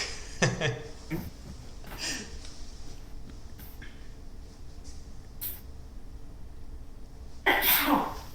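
Someone sneezes in a quiet room at a junior bridge championship match, with a short burst early on and a louder, fuller sneeze near the end amid faint background rustling.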